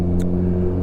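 A Kawasaki Ninja 1000SX motorcycle fitted with a Black Widow exhaust idles close by, giving a loud, steady, deep engine rumble with a brief sharp tick at the start.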